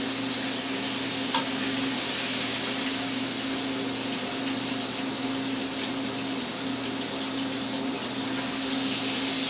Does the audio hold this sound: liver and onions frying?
yes